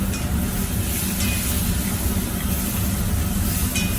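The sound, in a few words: deglazing a hot pan with wine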